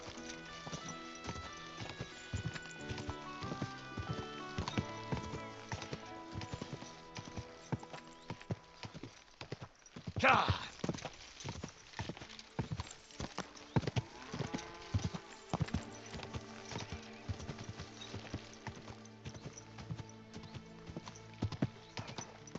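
Horse hooves clip-clop at a walking pace in the medieval game Kingdom Come 2, with a sharp whinny midway, over soft background music.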